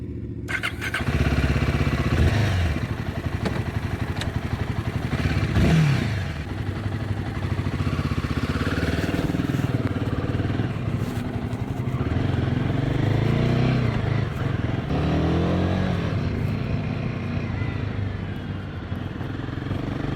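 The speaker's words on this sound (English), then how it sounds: "Today, I'm taking a test ride on this all-new Royal Enfield Himalayan 450." A 2024 Royal Enfield Himalayan 450 adventure motorcycle on a test ride gives a steady, close engine drone, rising and falling through throttle changes and gear shifts, with wind rush over it.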